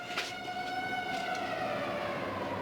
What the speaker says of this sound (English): Why the sirens are still on?